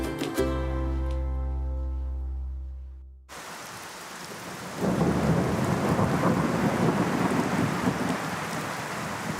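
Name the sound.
rain cloudburst with thunder in a garden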